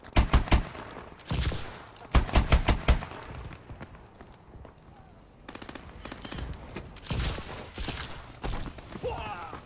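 M14 rifle fire in Advanced Warfare crackles in several fast bursts of sharp, close shots, separated by quieter gaps of game ambience, with more distant shooting and brief voices in between.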